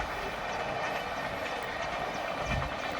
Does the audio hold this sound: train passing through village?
yes